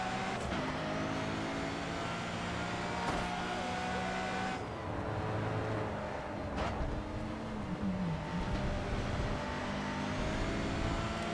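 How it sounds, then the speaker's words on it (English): Racing car engine in the GRID 2 video game, droning steadily and loud throughout while cornering, with pitch dips and rises as the throttle eases off and comes back on. "I just want you to listen to how the engine goes as I'm going in the corner"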